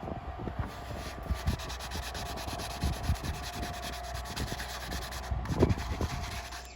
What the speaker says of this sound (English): I'm just sanding down because it's a bit too smooth of a surface